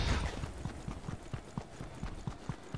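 Donkey hooves in the Fortnite video game clop in a steady, even rhythm of about a dozen hollow hits, fairly close and moderately loud, with no talking.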